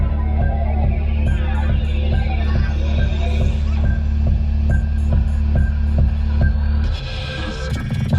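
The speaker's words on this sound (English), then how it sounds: "This is going to be a drum and bass-ish kind of electronic song." A drum-and-bass-style electronic song plays with very low, throbbing bass, a steady beat and shimmering high accents, dropping briefly near the end.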